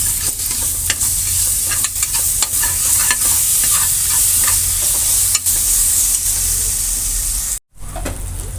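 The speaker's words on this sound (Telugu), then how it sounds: "బాగా కలుపుకుందాం." Onions, curry leaves and ginger garlic paste sizzle loudly in a pan while a spoon scrapes and stirs through them, with steady frying hiss and repeated stirring scrapes broken by a brief dropout near the end.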